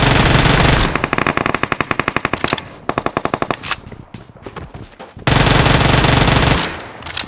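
Automatic gunfire from a horror shooter video game comes in loud, rapid bursts. Sustained rattling volleys alternate with quick evenly spaced shots and a brief lull before another long burst.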